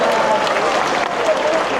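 Cruise ship audience applauding a performance, a dense, loud wash of clapping that continues steadily for under two seconds.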